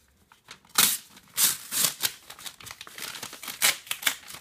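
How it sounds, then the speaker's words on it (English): Close crinkling and cutting noises as a mail package of comic books is cut open, with irregular bursts of scissors snipping and plastic or paper packaging rustling. "Cut this open."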